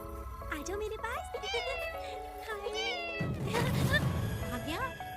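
Several cats meow repeatedly and close by, rising and falling cries overlapping one another, with a person speaking over them near the end.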